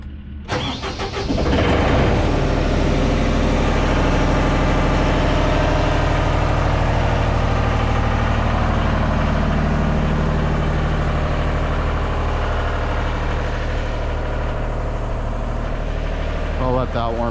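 A Genie S-65 boom lift's engine cranks briefly, catches and settles into a loud, steady idle as it warms up, running unbroken for well over ten seconds.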